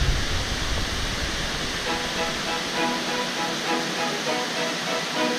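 Bali waterfall in dry season with reduced flow, a steady broadband rush of falling water filling the whole stretch, continuous and fairly close, with no voices.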